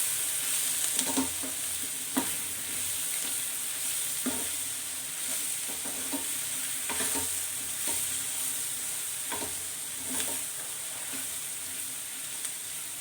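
Ground spices such as cumin powder, red chilli powder and garam masala roast in a pan, a steady hiss with repeated scraping stirs every second or two, close and unaccompanied by speech.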